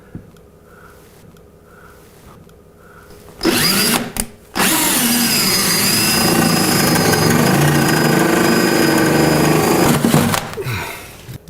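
After a few quiet seconds, a loud power drill bursts on briefly, pauses, then grinds steadily through a cabinet wall for several seconds, boring a hole for a microwave plug, before stopping.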